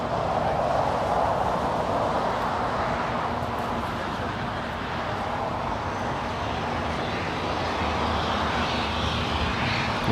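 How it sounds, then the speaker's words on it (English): A fixed-wing airplane passes over Los Angeles International Airport, its engine roar steady, broad and fairly loud for the whole stretch, with no talk over it. "I think we have a flight flying over LAX."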